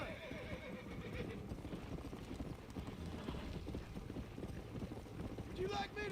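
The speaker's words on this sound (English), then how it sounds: "My horse just hasn't got the stamina" A horse in the Western game Red Dead Redemption gallops with a rapid, continuous clip-clop of hooves, loud and close, and near the end gives a brief whinny over rushing wind.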